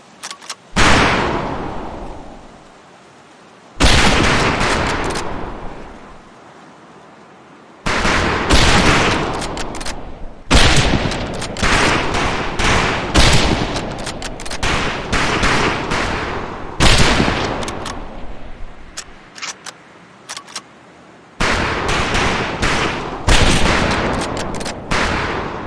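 Rifle volleys crack out on a Medal of Honor: Pacific Assault boot-camp firing range, loud close bursts of rapid overlapping shots in several clusters separated by short pauses, with no talk over the gunfire.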